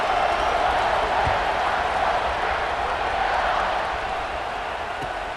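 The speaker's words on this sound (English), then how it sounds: "this crowd is buzzing after that last score" Stadium crowd in the video game College Football 26 buzzing after a score, a steady broad roar that holds evenly throughout and eases slightly toward the end.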